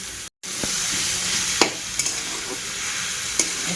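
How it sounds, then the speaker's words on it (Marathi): Chopped tandlachi leafy greens fry in a hot pan as they are stirred, with a steady close sizzle and a few sharp scraping strokes at intervals, no voices. "आता ही भाजी आपण जी सुट्टी करून घेतली ती टाकते त्याच्यामध्ये आणि छान मिक्स करून घ्यायची"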